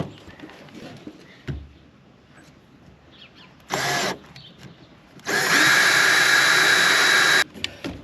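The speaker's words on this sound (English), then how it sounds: "let's get drilling." Two bursts of a power drill whirring: a short one, then a longer, louder high-pitched run of about two seconds, with quiet rustling between.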